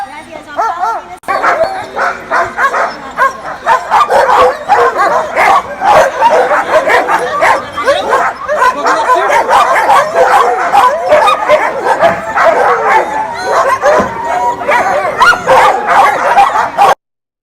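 Sled dogs at a dog mushing camp in Juneau, Alaska bark, yip, whimper and howl in a loud, continuous overlapping chorus, with many close, excited calls packed together from start to finish.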